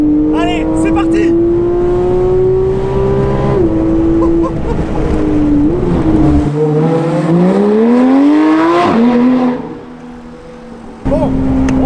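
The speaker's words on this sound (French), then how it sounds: "comme tu l'entends, le flat 6 3 litres 8" A Porsche 991.1 GT3 with its 3.8-litre flat-six engine runs loud and close, its tone rising and falling through revs and gear changes, dropping briefly before picking back up, with a voice speaking over it.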